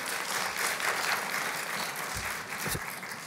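Audience applause during a talk about regional response centres: sustained, dense clapping from a crowd in a hall, steady throughout with a couple of low thumps near the end.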